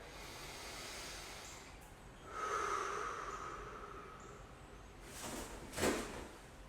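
Slow, deep breaths during a lower-body mobility exercise, a few long airy inhales and exhales close to the mic, with a sharper snort-like exhale near the end.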